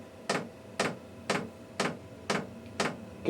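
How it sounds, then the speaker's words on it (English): Diesel heater fuel pump in a truck camper ticking loudly and evenly, six sharp clicks about half a second apart over a low steady hum. "Yep, there goes the pump."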